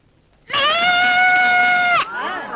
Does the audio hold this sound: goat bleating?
yes